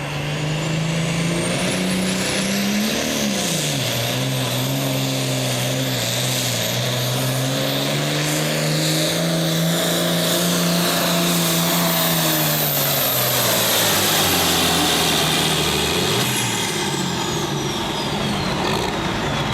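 A 9,300-pound super class tractor at the 2003 American Tractor Pullers Association Midwest Summer Nationals pull gives a loud, continuous engine roar whose pitch dips and climbs during the run, with no talk.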